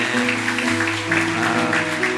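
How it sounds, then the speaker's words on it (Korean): A church congregation claps in blessing right after two infants are baptized. The applause is dense and steady, with sustained organ or keyboard tones underneath it. "큰 박수로 축복하겠습니다"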